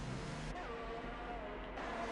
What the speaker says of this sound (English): Now we have a slow moving Ferrari moving out of everyone's way with no wing.